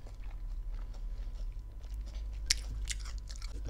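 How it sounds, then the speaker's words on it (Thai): Crisp bites and chewing of a crispy pork papaya salad (Thai tam sua with crispy pork), close and fairly loud, with a sharp crunch around the middle and softer chewing before and after, no talking. "ฟังเสียงกรอบๆเด"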